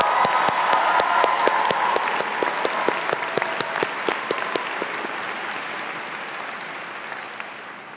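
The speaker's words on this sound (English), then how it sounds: "Let us also have a round of applause for Professor Kevin Frick for reading the names of our graduates" An audience applauds at a university business school commencement ceremony, with sharp, distinct claps in a large hall, strong at first and gradually fading as the clapping thins out.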